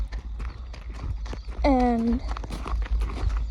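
A horse wearing hoof boots for the first time walks in a circle, giving soft, regular clip-clop footfalls. A whinny rises partway through, and a person speaks briefly over the hoofbeats.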